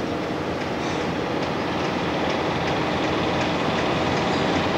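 A train rumbles steadily across a Missouri Pacific steel truss bridge, a dense continuous roar with faint rhythmic clacking of wheels over rail joints, heard from a moderate distance without talk.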